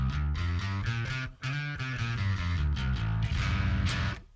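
Bass guitar played through a SansAmp bass profile on a Tone Hub pack, recorded into an MBOX Studio interface: a steady line of loud, close, repeated plucked notes with a brief gap, alone without talk.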